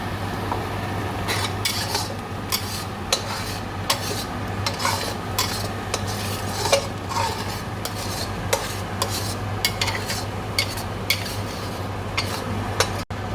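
Prawn curry sauce stirred in a wok with a utensil, producing repeated scraping clinks against the metal over a steady low sizzle, close and continuous with no talk.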